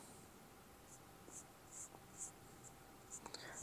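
A Sharpie pen marks a forged Wossner piston for a 2017-24 KTM 300 engine, giving a few faint, quiet squeaky strokes spaced over a few seconds against low background hiss.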